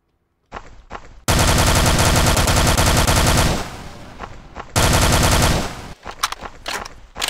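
Video game gunfire, two sustained loud bursts of rapid automatic fire separated by a pause, with a few short shots before and scattered clatter after.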